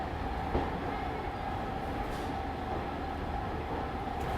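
A train pulls into Jalandhar railway station on Indian Railways, a steady broadband rumble and rail noise filling the whole stretch at moderate level, with no speech over it.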